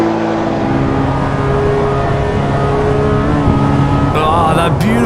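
Race car engine in Assetto Corsa revving and climbing toward 9,000 RPM, a loud, steady, undulating engine note with rising harmonics that fills the whole stretch, plus a brief higher whine near the end.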